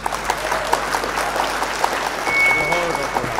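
Audience at a Hindi comic poetry gathering claps in a dense, continuous patter of applause, with scattered louder hand claps and a faint tone rising over it partway through.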